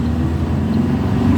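Driving-school car engine accelerating during a lesson on a training track: a loud, steady, close engine drone throughout the short stretch, with no speech.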